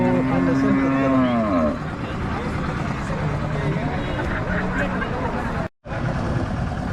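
A cow lets out a long, low moo nearby at the start of a cattle market, followed by background farm noise and faint voices.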